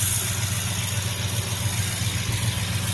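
A 2012 Ford F-150 Raptor engine idles steadily and close by, a loud, even low rumble with a throbbing pulse and a broadband mechanical hum throughout.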